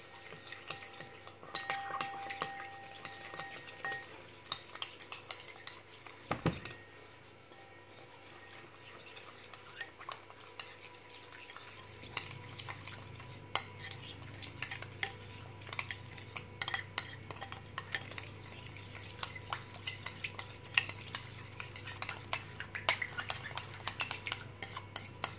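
Utensil stirring a marinade with garlic powder in a bowl, for lacquered duck: soft clinks and scrapes of metal against the bowl, repeated irregularly over a low steady background hum, fairly close, with no talking.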